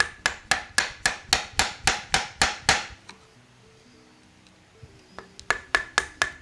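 A chisel is struck over and over with a mallet to chip out wood so a table leg fits snugly: about ten sharp, evenly spaced taps, a quiet pause with faint shuffling, then another quick run of blows.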